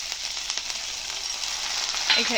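Ginger garlic paste and green chili paste fry together in a pan, a close, steady, bright sizzle with light stirring, with a small clink near the end.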